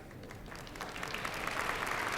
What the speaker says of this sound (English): The applause you hear welcomes our 4 soloists, Anshel Brusiloff, Irvin Rosen, William Schoen, and Lauren Monroe, making their way to their seats